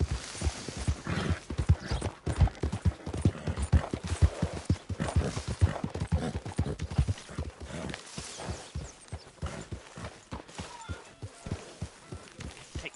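Rhythmic clip-clop of horse hooves in Red Dead Redemption 2 at a steady walking pace, close and continuous, with faint background ambience.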